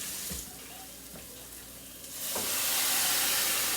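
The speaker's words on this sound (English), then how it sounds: "we put about 2 cups of water in there" Water pours into casserole stuffing, about two cups from a tap or container, a steady rushing hiss that swells and fills the last half, close and fairly loud with no talk.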